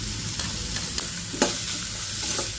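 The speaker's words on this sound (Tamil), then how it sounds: "லைட்டாக ஃப்ரை பண்ணிக்கோங்க." Capsicum stir-fried with red chili powder and sugar in a pan for veg Manchurian, a steady close sizzle with occasional scrapes of the spatula stirring, no voices.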